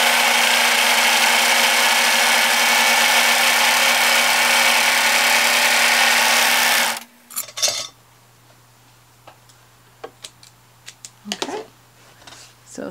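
An overlocker serger trims and finishes the raw edges of fabric for a sewing project, running as a loud, steady mechanical whir for about seven seconds before stopping, followed by a few scattered clicks and handling noises.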